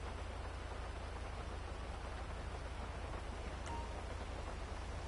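Rain falls with wind at night in Sandy Shores in a GTA video game, a soft, even hiss of steady rainfall with a faint brief tick partway through, no talking.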